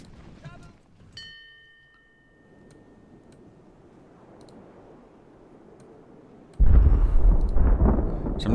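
Artillery fire in the naval strategy game Ultimate Admiral during a large land battle: a few clicks, then a rumbling boom that swells suddenly into loud, sustained cannon fire near the end.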